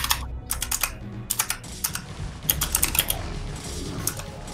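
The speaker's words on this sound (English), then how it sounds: "The keyboard's really loud." Loud mechanical keyboard typing during a StarCraft match broadcast, with irregular bursts of sharp clacking keystrokes over a steady low background hum.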